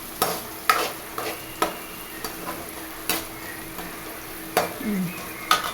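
Curry leaves sizzle in a frying pan as a spoon stirs them, giving a constant bright hiss broken by sharp scraping clicks and taps at irregular intervals, close and clear without speech.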